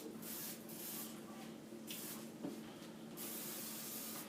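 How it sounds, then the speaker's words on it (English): A steady, hissing aerosol cooking oil spray runs continuously for several seconds, with faint splattering over a metal sink. "if I spray it here, the oil will go through."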